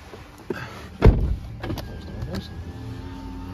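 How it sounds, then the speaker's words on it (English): Electric windows on a Honda CR-V 2.0 i-MMD hybrid whir briefly inside the cabin, with a short thump near the start and a few small clicks and motor hums afterward. "Electric windows front and rear."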